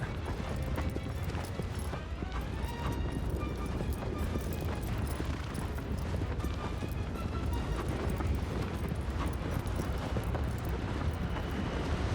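Horse galloping in Shadow of the Colossus (2018 remake), a steady rapid beat of hooves running without a break across desert ground, close and loud under a constant rumbling wash of wind.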